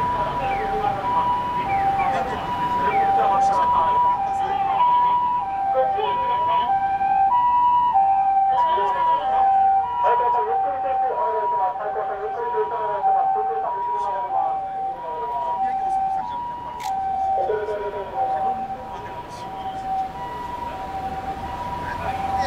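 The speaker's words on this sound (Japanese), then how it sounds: "ちょっと救急車が行ってからにしますので" A two-tone ambulance siren wails steadily for the whole stretch as it passes, loud and close, with rumbling traffic underneath, in Naha, Japan.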